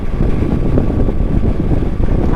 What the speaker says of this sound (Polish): łomotanie w kasku, nie wiatr, tylko łomotanie takie